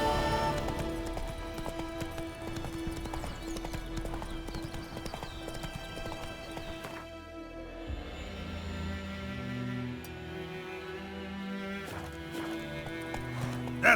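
Horse hoofbeats in The Witcher 3 game: steady clip-clop of galloping hooves, close and clear, running throughout over game music with an occasional brief whinny.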